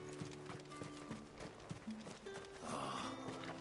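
Horse hooves clip-clopping at a steady walk with occasional snorts, from the video game Final Fantasy XVI, fairly faint and close, over soft game ambience with a low hum.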